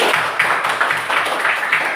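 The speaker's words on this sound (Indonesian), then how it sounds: "Ya, tepuk tangan sekali lagi" A classroom group applauds after a student group presentation with quick, fairly rhythmic clapping that pulses at a steady beat, moderately loud and with no clear speech over it.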